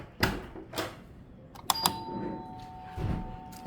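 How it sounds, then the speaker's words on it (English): Doorbell ringing in a building near a laundry area, a bright two-tone chime around the middle of the short stretch, preceded by a few dull knocks and thumps, moderately loud with no talk. "That's a doorbell."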